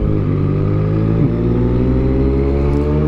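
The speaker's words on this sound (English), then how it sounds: "I hope you like the new exhaust." A Yamaha motorcycle with a new aftermarket exhaust, an MT-09 or R6, rumbles close and loud in a neighborhood, its engine note climbing steadily as it revs.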